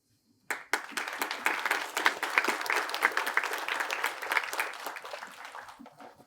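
An audience at the 2022 Fairleigh Dickinson University academic convocation bursts into applause after a near-silent start, sustaining full, even clapping before gradually tapering off.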